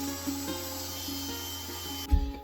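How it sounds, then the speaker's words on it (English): A wooden ukulele neck blank is cut for the tenon in a workshop, a steady scraping cut with a constant hum underneath, ending in a short knock near the end. "Neck blank marked off now for the tenon."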